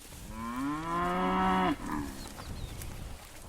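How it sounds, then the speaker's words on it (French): Highland cattle on a farm give a single loud, drawn-out moo that rises slightly and cuts off abruptly, followed by a short softer grunt and quiet background. "Je travaille avec des vaches, donc j'ai démarré avec les vaches Highland parce que voilà, je voulais des vaches rustiques."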